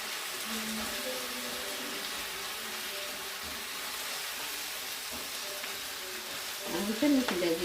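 Chopped cabbage frying in a pan with onion, giving a soft, continuous sizzle at low volume, with a brief stirring scrape near the end.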